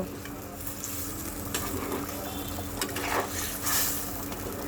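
Fish fries in a pan with cumin powder, a soft steady sizzle with light stirring and a few scrapes and clinks as the pieces are turned, fairly faint and without talk.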